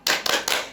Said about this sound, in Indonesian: sekarang kita tepuk cinta ya